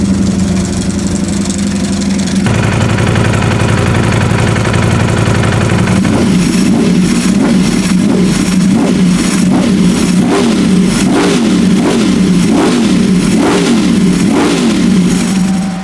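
A Ducati SP2 motorcycle engine idles loudly and steadily while warming up, a close, continuous low rumble with a regular pulsing throb and no talk.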